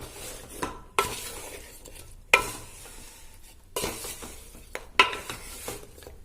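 Jaggery melting in ghee in a pan for ariselu, stirred with a spoon in repeated scraping strokes and occasional metal clinks over a soft sizzle, with no talk.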